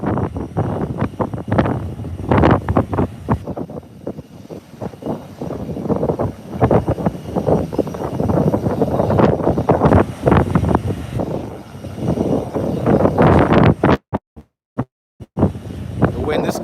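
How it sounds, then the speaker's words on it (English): Gusty wind buffeting the microphone outdoors at Howard Hamilton International Airport, loud irregular rumbling bursts throughout, with a person talking over it and brief dropouts near the end. "The wind is kind of up today."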